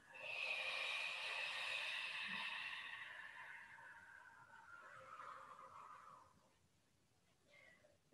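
A long, forceful exhale during a Pilates abdominal exercise, a breathy hiss that fades gradually over several seconds, followed by a faint shorter breath, close and quiet.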